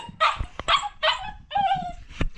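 A dog whimpers and barks in a string of short, fairly close yips and whines, eager to be let outside, with brief gaps between calls.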